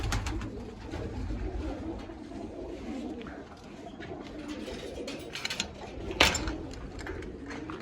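Pigeons coo in low, throaty bursts nearby, over a steady rustling background with a few light clinks.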